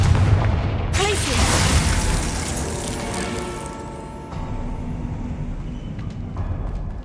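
A Confringo spell blast in Hogwarts Legacy, a loud booming explosion with a bright crackling burst and a long rumbling tail, with further impacts and game noise after it.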